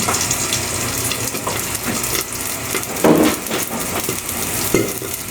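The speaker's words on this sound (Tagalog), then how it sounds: "Tatakpan lang natin sa saglit mga lodi kasi tumatawsik siya." Hot oil sizzling and splattering in a pan during home cooking for lunch, a steady close-up hiss with occasional sharper pops and clatter of cookware.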